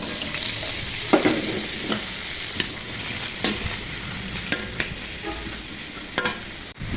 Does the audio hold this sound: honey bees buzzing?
no